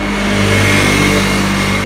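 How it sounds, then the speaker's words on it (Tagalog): Cars rush past close by on a busy street, a loud, steady roar of engines and tyres that swells and holds without a break, with no voices over it. "marami pong dumadaan na sasakyan"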